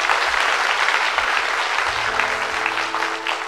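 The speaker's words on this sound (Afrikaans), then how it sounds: "ek dink ons kan hierdie band van ons lekker hande klap gee." An audience at a church gathering applauds the band, a full, steady burst of clapping with low instrument tones humming underneath, loud and sustained throughout.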